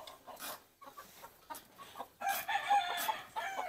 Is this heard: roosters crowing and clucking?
yes